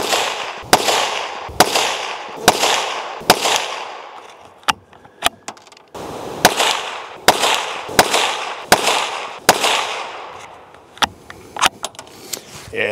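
Tikka T1X .22 rimfire rifle fired at a range during accuracy testing: about ten sharp, loud, close shots spaced roughly a second apart with a short pause midway, interspersed with faint mechanical clicks.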